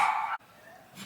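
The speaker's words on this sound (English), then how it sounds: "That's his brother barking next door as well." A neighbouring dog barks next door in a short, fairly loud burst at the start, then goes quiet, with a voice nearby.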